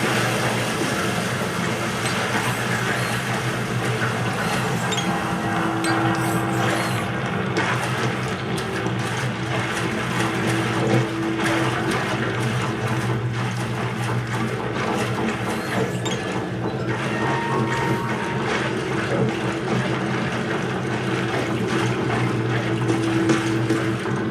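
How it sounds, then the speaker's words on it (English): Continuous rushing, churning water with a low mechanical hum underneath, steady and unbroken throughout, with no voices. "Is there a bathtub overflowing up there?"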